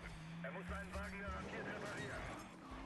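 A car drifting with tires squealing in the Need for Speed Most Wanted 2012 video game, engine droning under a voice talking over it.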